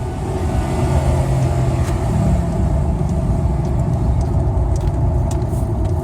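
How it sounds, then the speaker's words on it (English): Ford XR8 with an automatic transmission cruises in top gear, its engine a loud, continuous low rumble with road noise throughout, with no talking. "Now we're cruising along, and we're in top gear, and I'm just gonna floor it."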